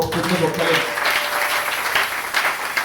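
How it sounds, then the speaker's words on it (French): A church congregation at a Sunday service applauds for the Lord, a broad, sustained rush of clapping that swells after a brief voice at the start and carries on at a fairly loud, even level. "Est-ce qu'on peut applaudir pour le Seigneur?"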